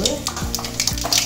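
Mustard seeds and urad dal fry in hot oil in a kadai for taro gravy, giving a close, busy sizzle with sharp crackling pops while someone talks over it.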